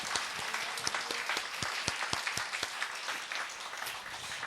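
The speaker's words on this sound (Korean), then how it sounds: "우리 첫 장 칠 때 박수로써 한번" Church congregation clapping together at a New Year's Eve service, a dense steady round of applause from many hands throughout, moderately loud and without speech.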